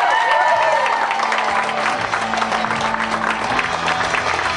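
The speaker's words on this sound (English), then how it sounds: "Let's give her a big round of applause." Wedding guests at a harbor tavern reception applaud loudly and continuously, a dense roar of clapping with some cheering over background music.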